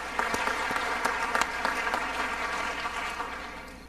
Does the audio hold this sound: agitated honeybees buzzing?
no